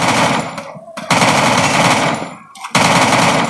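Rapid machine-gun fire from a video game, loud and close, in sustained bursts broken by two short pauses.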